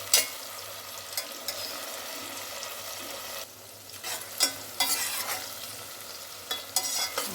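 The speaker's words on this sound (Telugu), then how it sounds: "ఇవి కొంచెం నూనెలో మగ్గాలి అవి మెత్తగా వస్తేనే బాగుంటుంది" Ingredients for chicken dum biryani frying and softening in oil, a steady close sizzle with intermittent scraping stirs and spoon clinks, no talking.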